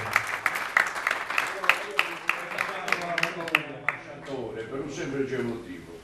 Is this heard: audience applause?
yes